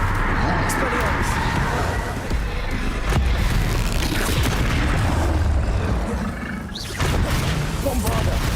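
A Bombarda spell explodes during a Hogwarts Legacy battle against a troll. Loud, booming blasts sit within a dense, continuous roar of combat effects, and a voice talks throughout.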